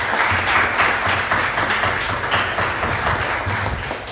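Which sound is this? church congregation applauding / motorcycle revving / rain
church congregation applauding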